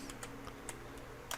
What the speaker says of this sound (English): we're going to type in multiply